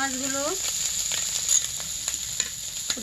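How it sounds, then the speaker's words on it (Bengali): Small native puti fish frying in hot oil give a steady close sizzle broken by light crackles and pops, with a brief voice at the very start. "এই তেলের মধ্যে আমি এই যে ছোট ছোট পুঁটি মাছগুলো ভেজে নেব।"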